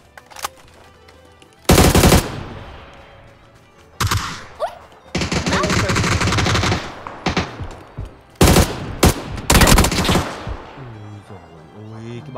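Automatic and single gunshots from the battle royale video game PUBG, loud rapid bursts repeating between quieter gaps, with voices talking over the gameplay.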